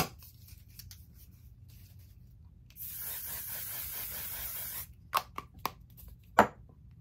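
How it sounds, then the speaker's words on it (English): A steady hiss of a mattifying setting spray mist runs for about two seconds, followed by a few soft taps and clicks in a quiet room. "now I'm gonna spray again."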